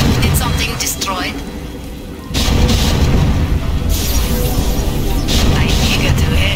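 A command center blowing up in StarCraft, Terran campaign: a sudden loud boom at about two seconds, then a sustained, dense rumble of crashing debris and battle noise that keeps going to the end, with game voices mixed in.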